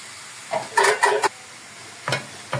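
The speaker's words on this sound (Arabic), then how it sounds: "خلاص يشوحوا مع بعض شويه كده" Lamb sautéing with kabsa spices in a pot, heard as a few short bursts of stirring and scraping over a faint background sizzle, clustered early and then once more near the end.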